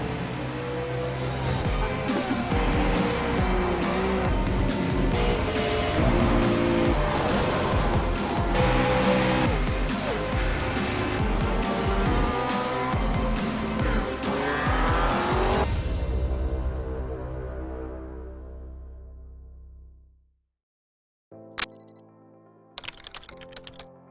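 Formula Renault race cars at Sonoma in the iRacing sim racing game, dense engine roar with shifting pitches for about fifteen seconds, then fading to silence before a few sharp clicks.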